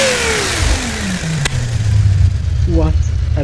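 A 6-liter V12 car engine in the Automation game revs down with a falling whine, then climbs again into a loud, sustained roar, heard close.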